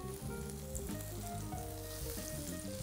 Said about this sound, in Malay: Jadi saya panaskan kuali dan kita boleh masukkan bahan-bahan yang kita dah iris ni